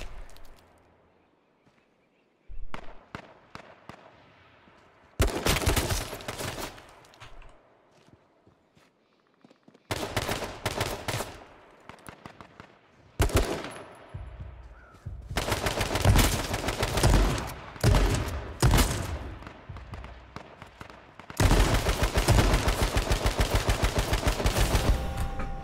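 Video game gunfire comes in bursts of rapid automatic fire and single shots separated by short quiet gaps, growing louder and more sustained toward the end.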